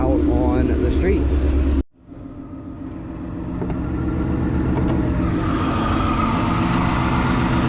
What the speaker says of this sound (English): We're gonna let her warm up for a second and then we will be out on the streets.